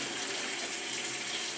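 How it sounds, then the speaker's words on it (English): Very hot water runs from a kitchen tap into a kettle as a steady, even rush of pouring water, moderately quiet and unbroken. "I should fill the kettle with the very hot water from my kitchen tap"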